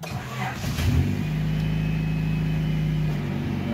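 A Honda CRX engine cranks briefly and catches, then settles into a steady, loud idle with a low, even drone that holds up close with no talking over it.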